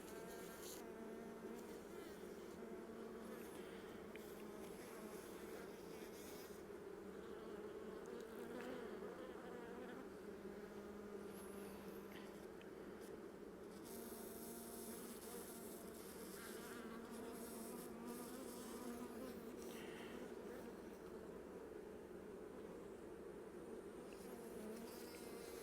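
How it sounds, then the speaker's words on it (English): Honey bees buzz around an instrumentally inseminated queen during CO2 gassing, a continuous, dense, steady hum of many wings heard close and fairly soft throughout, with no talking. "Bees seem to like her."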